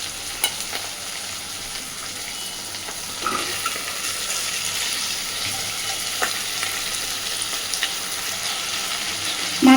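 Marinated fish fries with onion and tomato in a pan, giving a steady low sizzle. Occasional sharp clinks and scrapes of a spatula or bowl cut through, and there is a louder knock at the end.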